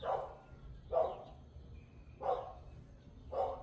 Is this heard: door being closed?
no